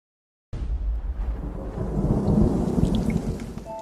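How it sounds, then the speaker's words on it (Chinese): After a moment of silence, a thunderstorm breaks in with a deep, rolling rumble of thunder. Steady rain keeps falling on surfaces underneath it. The sound swells louder toward the middle and there is no talking. "又下雨了。"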